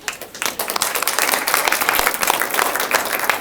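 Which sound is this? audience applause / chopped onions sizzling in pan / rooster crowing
audience applause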